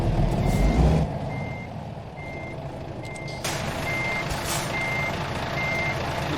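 Truck reversing alarm in American Truck Simulator, a steady series of evenly spaced beeps over a loud engine rumble while backing up a trailer toward the Boise Mill, with no talk.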